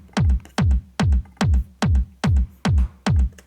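A big room trance kick drum sample is played in FL Studio, eight punchy, evenly spaced hits with a short gap of silence after each.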